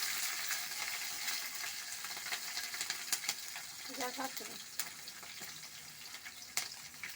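Nigella seeds and slit green chilies crackle and sizzle in hot oil, a steady fairly quiet hiss with scattered pops and a short clatter partway through.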